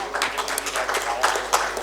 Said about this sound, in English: Can we have a round of applause for him as well, please?